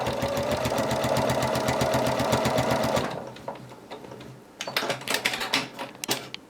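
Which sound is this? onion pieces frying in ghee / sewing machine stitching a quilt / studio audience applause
sewing machine stitching a quilt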